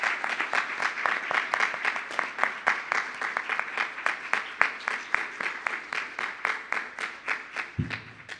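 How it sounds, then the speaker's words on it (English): An audience at a devotional celebration program claps in unison, a rhythmic, evenly spaced beat of many hands keeping steady time throughout, ending with a soft low thump. "Let's give him another round of applause while I figure out what to say."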